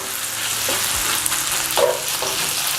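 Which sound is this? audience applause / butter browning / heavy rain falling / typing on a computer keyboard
butter browning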